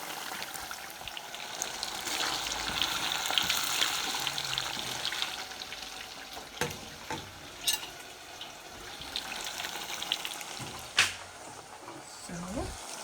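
Tomato sauce fries in a pan with a soft, steady sizzle and bubbling. Occasional clicks and stirring knocks break through, and a voice talks over it now and then.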